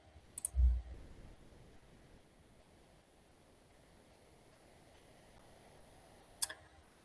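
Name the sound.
computer mouse clicking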